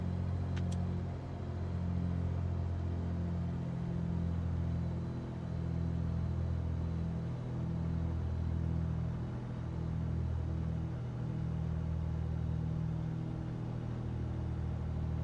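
A flight simulator aircraft engine drones steadily at a low, rumbling pitch during a magneto check, the tone wavering slightly as the RPM dips, with no voices over it.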